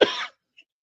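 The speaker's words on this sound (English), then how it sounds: "that cough you can't catch" A single short, harsh cough from a man, loud and close, followed by silence with a faint click.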